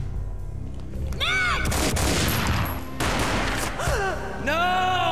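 Gunfire in the Max Payne video game: several heavy, booming gunshots crack out in bursts with swooping slow-motion effects between them, loud and close.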